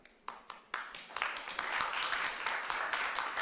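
An audience at a county Board of Supervisors meeting bursts into applause, starting with a few scattered claps and swelling into sustained, dense clapping from a crowd.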